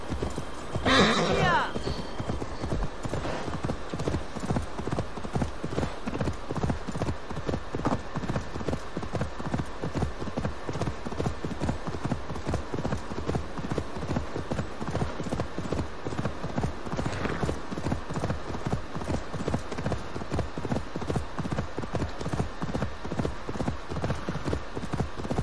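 Steady clip-clop of horse hooves at a trot in the Viking-era game Assassin's Creed Valhalla, a continuous even rhythm close by, with a brief snort or whinny near the start and faint background ambience.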